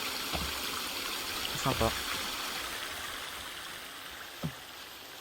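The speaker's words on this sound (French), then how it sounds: "Vraiment très, très sympa, ces petites zones, là. Ces petites cascades." Small waterfalls flow in the survival video game The Forest, a steady, even rush of water running throughout, with someone briefly speaking over it.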